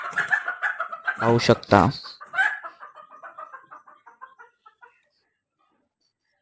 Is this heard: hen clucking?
yes